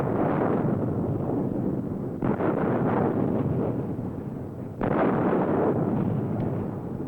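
GSRS (MLRS) rockets ripple-launch from an SPLL launcher in 1980s test firings, each departure a sudden, loud, sustained roar, with two distinct onsets rumbling on over wind noise.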